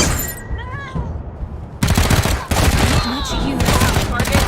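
Gunfire in the turn-based RPG Wasteland 3: a dense fusillade of rapid gunshots and bursts, loud and close, with a quieter stretch of shots and game effects early on before heavy firing resumes.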